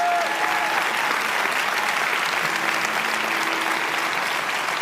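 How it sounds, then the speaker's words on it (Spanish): A church congregation claps together in steady, dense applause that fills the room for several seconds, fairly loud and unbroken, with faint murmuring underneath. "Si vas a aplaudir, iglesia,"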